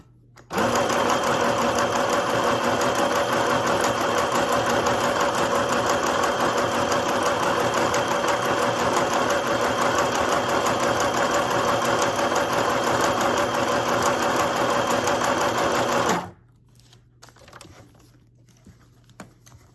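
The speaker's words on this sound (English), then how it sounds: "And this is like a big zigzag stitch." A portable sewing machine runs continuously for about fifteen seconds, stitching a big zigzag stitch with a fast, steady mechanical rattle, then stops and the room falls quiet.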